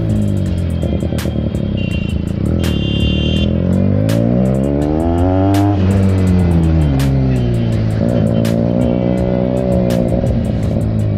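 A Benelli TNT 300i inline-four motorcycle fitted with an aftermarket IXIL exhaust revs loudly and close, its pitch climbing and falling through repeated throttle blips over a continuous idle.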